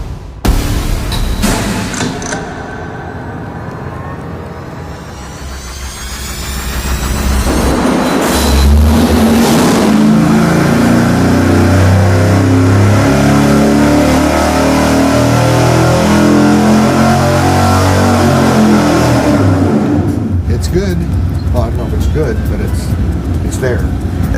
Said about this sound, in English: And it's the ultimate average small block Chevy. And it runs really smooth.